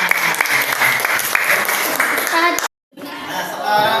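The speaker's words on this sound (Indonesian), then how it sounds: "Ya, tepuk tangan." A classroom group of students claps together in a lively burst with faint chuckles and voices mixed in. The applause cuts off abruptly into a brief silence, then resumes more softly.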